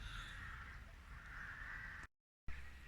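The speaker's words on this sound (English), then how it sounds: "we have a murder of crows up there making a lot of racket" A murder of crows caws overhead in a noisy, raucous chorus, faint and distant against outdoor background hiss, cut by a brief dropout before resuming, with no talking.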